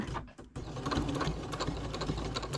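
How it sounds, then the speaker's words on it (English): Sewing machine stitching back and forth over a keychain clip on a small quilted coffin keychain, a steady close mechanical whir running continuously after a brief pause at the start. "we're just going to back stitch a couple times, make sure that is nice and secure"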